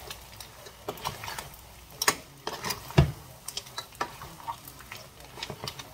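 Linguine with mussels and clams being given a final stir in a pan after a splash of olive oil, with the heat off: scattered clacks, scrapes and soft clattering of shells against the pan, fairly close and irregular, with one sharper knock midway.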